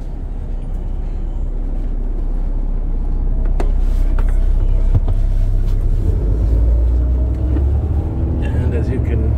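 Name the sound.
city bus engine heard from the back of the bus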